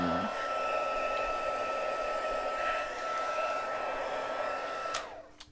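A heat tool blows a steady, loud whoosh over white embossing powder on paper for about five seconds, then cuts off abruptly near the end, with no talking.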